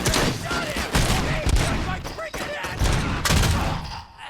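Gunfire in the RoboCop: Rogue City video game on Xbox Series S, a dense, continuous barrage of shots and thuds over a game soundtrack with speech mixed in.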